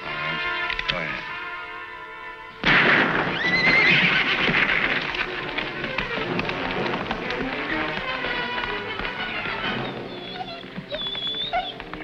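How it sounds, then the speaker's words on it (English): A spooked horse lets out a loud, drawn-out whinny close by. Its cries rise and fall over several seconds, with hoof clatter and people talking around it. "So I spook up the horse and he don't get on."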